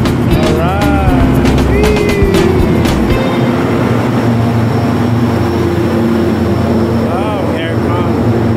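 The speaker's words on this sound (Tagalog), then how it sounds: "Hello, train. Good morning, train." Train approaching a waiting crowd: a loud, steady mechanical rumble and hum building throughout, with sharp squeals and whistling tones early on, while several people chatter and shout over it.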